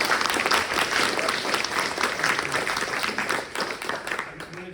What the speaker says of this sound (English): give a warm round of applause to Tayab